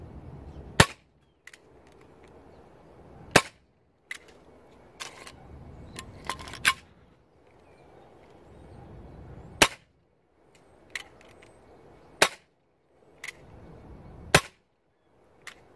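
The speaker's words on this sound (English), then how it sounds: "I guess a little more hop up and some heavier BBs will make this a very accurate pistol, since it's non-blowback." Non-blowback airsoft pistol fired in a backyard, about ten sharp dry snapping shots at irregular intervals, loud and close with quiet outdoor background between.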